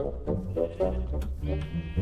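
Sheep bleat in a farm adventure video game, several wavering, nasal calls in quick succession, close and fairly loud over a low background rumble.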